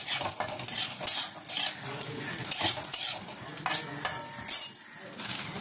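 Cashews shallow-fry in ghee with a continuous sizzle, while a utensil stirs and clinks against the pan in uneven, repeated bursts close by.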